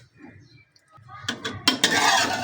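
Cooked rice being scooped out of a cooking pot in a home kitchen, starting quiet, then a few sharp metallic scrapes and clinks of a spoon against the pot, growing louder and closer toward the end.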